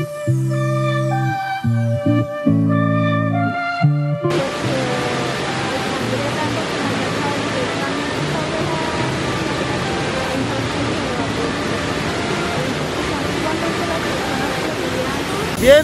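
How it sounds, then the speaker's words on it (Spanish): A waterfall on the Río Castame at La Humeadora, Gámbita, Santander, Colombia, roars as a loud, steady broadband rush close by. It follows a few seconds of music at the start. "Ya nos encontramos con esta segunda cascada que ustedes están viendo en este momento."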